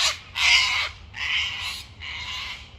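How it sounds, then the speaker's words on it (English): Cockatoos give three harsh, raspy squawks in quick succession, moderately close, with no other sound. "Those cockatoos are having a wonderful time too."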